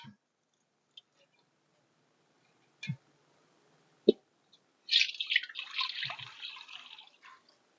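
Salt water for making maavadu is poured through a filter, giving a few scattered drips and small taps before a longer trickling, splashing pour; quiet and close, with no talk.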